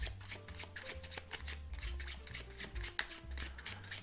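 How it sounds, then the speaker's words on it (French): A 52-card deck riffle-shuffled by hand during a card magic trick, giving a steady papery riffling and clatter over gentle background music for about four seconds. "Donc là on mélange toutes les cartes ensemble."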